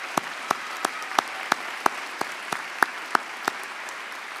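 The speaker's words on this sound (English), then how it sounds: "Please join me in a hearty round of applause for all our platform guests." An audience at a university ceremony applauds the platform guests, though only a sparse set of separate claps stands out, spaced in a loose steady rhythm over a hushed hall.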